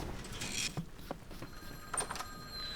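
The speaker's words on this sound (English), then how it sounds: "The persistence made the volume of the ringing seem even louder." Ringing from the game Witch on the Holy Night: a persistent bell-like ring with faint high tones over a steady low hum, fairly quiet and continuous with a few brief clicks, no voices.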